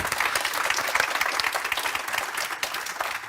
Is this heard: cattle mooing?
no